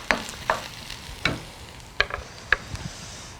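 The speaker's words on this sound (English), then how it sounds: "Give it a lovely mix around." Vegetables stirred around a frying pan for vegan pad thai, giving a handful of scattered scraping and clattering strokes over a soft, steady sizzle, fairly close and moderate in level.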